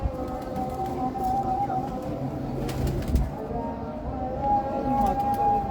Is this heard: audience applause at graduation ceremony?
no